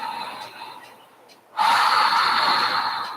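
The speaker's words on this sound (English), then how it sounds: "One more deep breath." A deep breath taken during a yoga session: a quiet stretch, then a loud, sustained breathy rush of air close to the microphone that holds steady to the end.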